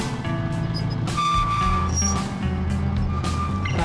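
Road traffic near the Masbate City public market, with loud close engines of cars and trucks rumbling past, tonal beeps and brake hisses mixed into a continuous busy din.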